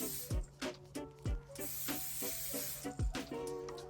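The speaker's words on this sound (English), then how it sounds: "Dry Session Spray." Extra-dry hair spray is sprayed in several short aerosol hisses spaced across the moment, close and fairly soft, mixed with handling sounds and a steady low hum.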